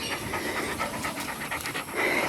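A dog panting after a walk, close and fairly loud, with quick rhythmic breaths repeating steadily throughout with no voices.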